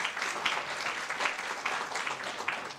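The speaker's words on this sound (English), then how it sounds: "Please give him another round of applause." Symposium attendees give a fairly faint but continuous round of applause, many hands clapping together with a slightly uneven texture.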